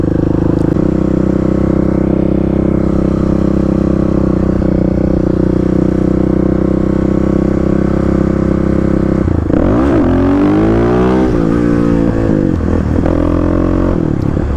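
A Stage 3 Kawasaki KLX351 dirt bike runs loud and steady at the beach, its engine droning continuously before surging into sweeping revs and throttle blips during wheelies, with no talking.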